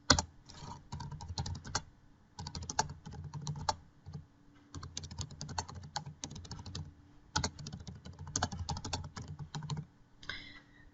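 Clicky keystrokes on a computer keyboard come in quick bursts separated by short pauses, close and fairly quiet, with no talking.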